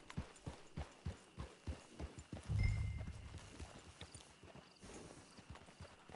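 Horse hooves clip-clop steadily in the Red Dead Redemption II video game, an even walking rhythm of fairly close hoof strikes over a faint background hum, with a brief low rumble midway.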